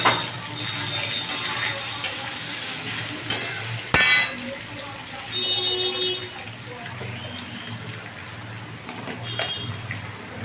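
Paneer cubes dropped into hot oil, sizzling and crackling steadily in a pan with a sharp clatter partway through, while someone speaks Bengali over the cooking.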